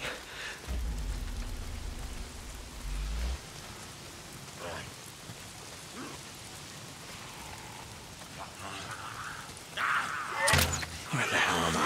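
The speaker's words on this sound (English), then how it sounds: "If it's not the freaks, it's the goddamn rain." Steady rain falling in the video game Days Gone, a constant hiss of drops with occasional low thuds and a brief sharp crack near the end.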